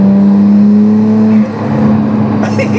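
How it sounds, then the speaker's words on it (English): A turbocharged Tomei Nissan Skyline R34 engine droning loudly at close range, a steady low tone that falls away partway through as the revs drop, with rushing road and air noise after. "it talks through the sound of those glorious, glorious turbos"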